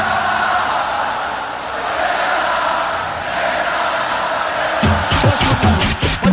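A Flamengo football crowd at the Maracanã stadium roars, shouting and chanting together in a dense, sustained wall of voices; near the end, sharper rhythmic bursts of claps or drums cut through the steady din.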